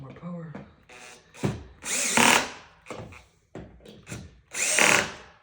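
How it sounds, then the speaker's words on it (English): Cordless power drill driving screws into furniture parts during assembly, several short whirring bursts rising in pitch, close by, separated by pauses and handling noise. "I hope my drill's got more power."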